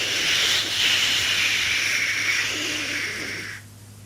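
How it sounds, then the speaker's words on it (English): A steam locomotive on a railway platform vents a loud, continuous hiss of steam for about three and a half seconds, then cuts off abruptly, leaving near silence. "he had to let off steam to show how happy he was"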